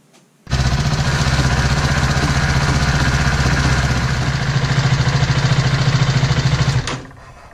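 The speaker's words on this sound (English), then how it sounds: "what I am going to do is just run the bike, put it in gear, and just let that chain get warm" A BMW G310 motorcycle engine starts and runs in gear on a stand, a steady close mid-pitched throbbing drone that holds for several seconds before cutting off.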